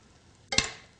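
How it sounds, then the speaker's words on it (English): A spoon is drawn once through a pan of sauce holding lamb meatballs, peas and baby carrots, making a single short, close scraping swish with a soft bubbling tail that fades over about half a second. "Give the sauce a bit of a stir"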